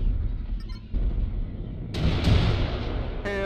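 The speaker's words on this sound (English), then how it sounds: "Warning, incoming missile." A missile explosion in a video game booms loud and close, a heavy burst swelling through the middle of a continuous rumble of battle noise, with a synthetic voice cutting in near the end.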